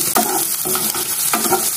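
Chopped onion hits hot oil after panch phoron has browned, giving a loud steady sizzle with a few stirring scrapes of a spatula in the pan.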